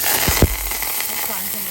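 Mustard seeds, urad dal and curry leaves sizzle in a couple of spoons of hot oil for a Tamil urad dal onion chutney, a steady close crackling fry with a brief louder pop early on.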